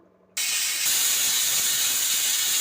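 A loud, sharp hiss of steam bursts out suddenly and keeps blasting steadily, the high whistle of a pressure cooker cooking cucumber dal venting close by.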